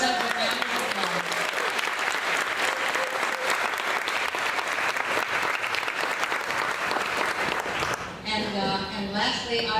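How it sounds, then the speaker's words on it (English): An audience at a rose society installation ceremony claps loudly and steadily for about eight seconds, then the applause drops away as a speaker's voice takes over. "Give yourself a round of applause"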